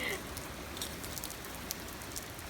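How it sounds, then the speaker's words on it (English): Rain falls steadily on a car, a dense even hiss of drops with a few faint brighter taps, heard from inside the vehicle. "I wouldn't want to be driving in this rain, would you?"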